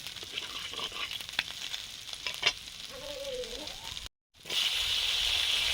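Nigella seeds sizzle steadily in hot oil during the cooking of an okra, potato and prawn chorchori, with some stirring noises. The sound drops out briefly, then returns as a louder, brighter hiss.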